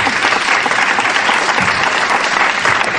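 Audience at a civic presentation breaking into loud, sustained applause, dense clapping filling the room without pause.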